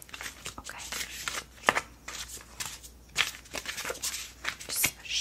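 Tarot cards shuffled lightly by hand in a soft-spoken setting, a run of close, crisp riffling and flicking bursts in an uneven rhythm, quiet and alone.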